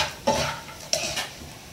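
Thai chili paste with pork cracklings and shallots is stir-fried in a pan. Two or three sharp spatula scrapes sound over a soft, close sizzle in a short burst, with no talking.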